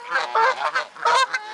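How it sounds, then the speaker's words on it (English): Canada geese honk in a quick series of loud, nasal calls, several overlapping bursts close by with brief gaps between them. "Like a baby Canadian geese."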